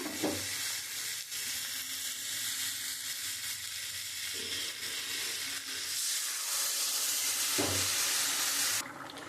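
Water poured into a pan of spiced potatoes frying for a rohu fish curry, a loud close sizzle and hiss that swells as the liquid hits the hot oil and keeps bubbling, with no talking.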